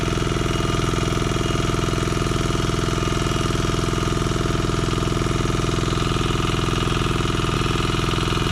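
A grass cutter engine runs at the edge of a field, a loud, steady, buzzing drone that holds an even pitch from start to finish with no voices over it.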